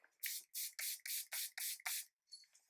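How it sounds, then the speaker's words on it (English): Revolution face mist sprayed in seven quick, close, crisp spritzes in a steady rhythm, followed by a faint rustle, with no talking. "this is just the XX Revolution Face Mist"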